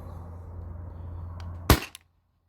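A single sharp pneumatic crack from a modified Valken M17 HPA airsoft rifle fires close by after a low steady hum, then quickly cuts to silence.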